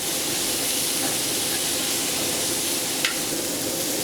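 Beef browning in a skillet gives a steady, moderately loud sizzle and hiss that runs without a break, with one brief sharper crackle partway through.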